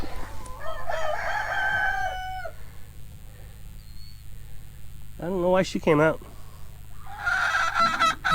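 A young hen at an off-grid homestead clucks and squawks close by in loud drawn-out bursts at the start, middle and end, with someone talking between the calls.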